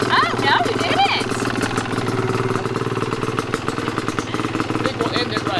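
A dirt bike engine idles steadily and fairly close throughout, with a rough, pulsing low rumble that holds an even pace, while people talk over it.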